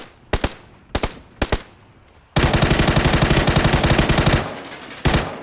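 Three single gunshots, then a long rapid burst of automatic fire, a pause, and another shot, loud and close, with a game-like punch.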